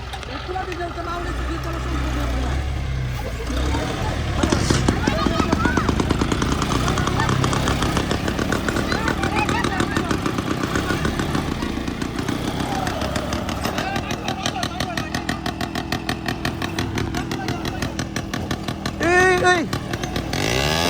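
A heavy Shaktiman tractor engine runs steadily throughout with a loud low rumble and rhythmic throb, while people shout and talk over it.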